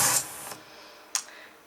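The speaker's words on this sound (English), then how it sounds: "And this other sound is the sound of sandpaper." Sandpaper scrapes with a brief hissing rasp, then a pause and a second short scratchy stroke, faint and heard alone.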